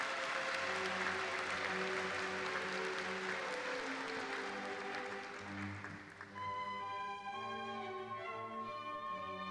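Audience applause at a Kanagawa University graduation ceremony, a full, even roar of clapping for about six seconds that thins out as sustained ceremonial music tones rise and take over.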